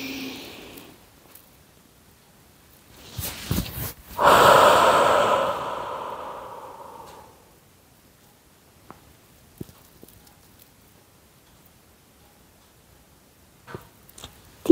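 A breathing exercise in a Samana Vayu yoga session: a quiet lead-in, then one strong, long exhalation through the mouth that fades over a few seconds, followed by near silence with faint movement noises.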